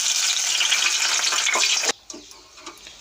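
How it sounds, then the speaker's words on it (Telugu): Curry leaves dropped into very hot oil for onion pakodi give a loud, dense hiss and sizzle for about two seconds, then it cuts off abruptly, leaving only faint clicks and light crackles. "బాగా ముద్ర కరివేపాకు తీసుకోవాలండి. తీసుకుని ఆయిల్లో వేసుకుని వేయించుకుందాం ఒకసారి."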